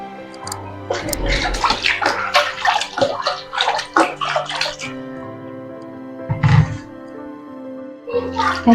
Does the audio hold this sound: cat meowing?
no